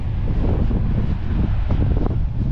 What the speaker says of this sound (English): wow, it's a bit windy